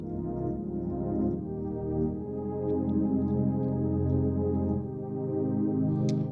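A sustained synthesizer pad from a Korg Kronos holds warm, layered chords that shift slowly, smooth and steady with no voices.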